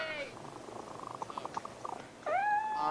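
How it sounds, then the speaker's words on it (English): A nearby tabby cat gives a drawn-out meow, then soft purring and light rhythmic ticking, then a second rising meow. "Obviously, the cat in here was not supposed to be in the short film."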